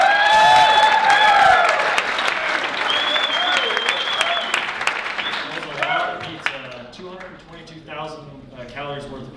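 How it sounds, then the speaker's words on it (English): An audience at a startup conversation event applauds loudly and steadily for about six seconds. The clapping then thins out beneath talking and crowd chatter. "give him a round of applause"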